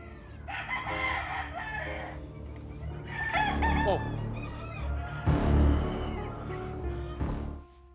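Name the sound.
roosters at a cockfight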